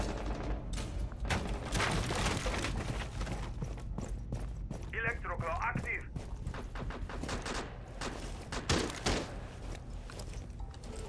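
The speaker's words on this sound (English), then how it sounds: "What are they shooting at?" Gunfire rattles through a round of Rainbow Six Siege, with dense bursts of shots and booms mixed into constant game noise while players talk over it.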